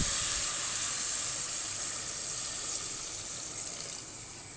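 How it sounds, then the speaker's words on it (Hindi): Two glasses of water pour into a hot pot of biryani meat, making a steady, close rushing and sizzling hiss that fades slightly toward the end. "तो हम इसमें 2 गिलास पानी ऐड करेंगे।"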